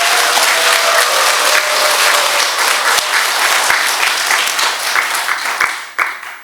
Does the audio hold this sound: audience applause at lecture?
yes